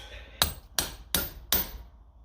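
Four evenly spaced, sharp metallic hammer taps on the diesel injection pump of a 1957 Ferguson 20 TEF tractor, close and distinct, each ringing briefly before the next, with no talking.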